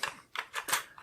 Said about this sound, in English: I'm typing at an angle, so it's really hard.